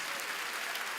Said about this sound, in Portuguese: vamos dar a melhor salva de palmas para a palavra de Deus